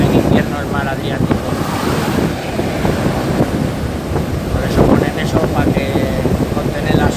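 Waves of the Adriatic Sea in a winter storm surge onto a beach, a steady loud roar of surf with strong wind buffeting the microphone throughout.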